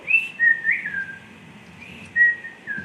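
A person whistles an imitation of a whippoorwill's call, clear rising and falling whistled phrases repeated in two bursts, close and fairly loud.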